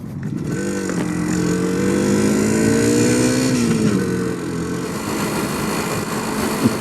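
Classic Suzuki T500 motorcycle engine on a run along Loch Ness, revving up through a rising, sustained tone that climbs for a few seconds, then drops back, loud and close with steady road and wind noise underneath.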